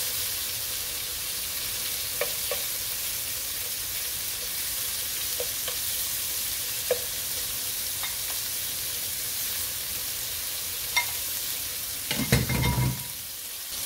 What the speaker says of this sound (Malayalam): നമുക്ക് ഇതിൻ്റെ അകത്തേക്ക് ഈ ചെമ്മീൻ ഇട്ട് കൊടുക്കാം